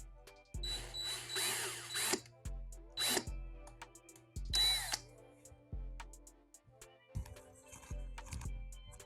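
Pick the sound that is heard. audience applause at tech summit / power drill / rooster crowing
power drill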